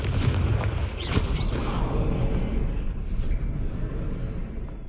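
Blasting from the Confringo spell in the video game Hogwarts Legacy, a booming explosion with a few bright pops over a dense, rumbling background that stays loud and continuous.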